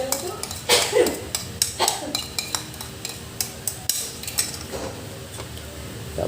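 Spatula clinking and scraping against a pot while champorado is stirred, irregular metallic taps and clatters at close range, with a voice speaking now and then.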